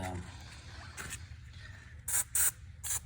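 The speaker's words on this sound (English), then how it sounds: "these are a bit rusty, so I'm gonna put some W40" WD-40 sprayed onto rusty bolts from a Range Rover Sport spare wheel winch: three short, close hissing spray bursts near the end, after a quieter stretch with faint talk.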